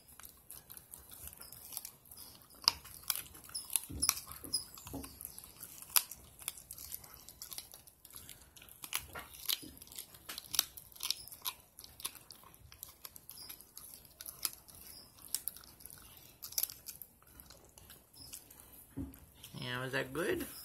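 Dogs chew raw meat, heart, liver and gizzard, with wet squishing and tearing bites and sporadic crunches in an irregular rhythm, close but fairly quiet, and a voice speaks briefly at the end.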